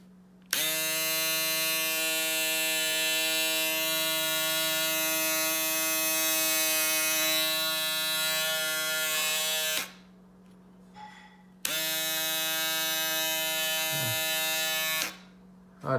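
An Andis Profoil Lithium Plus cordless foil shaver runs close and steady with a bright, even electric buzz, cuts off briefly, then starts again for several more seconds before stopping.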